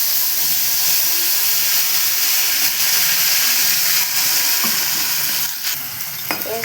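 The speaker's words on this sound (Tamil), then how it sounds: "நறுக்கி வச்சுருக்கிற உருளைக்கிழங்கு போட்டுக்கலாம்." Chopped potatoes sizzle and crackle steadily in hot oil, a loud continuous frying hiss with no talking.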